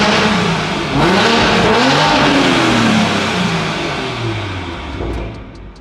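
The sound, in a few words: BMW M340i B58 engine revving, turbo spooling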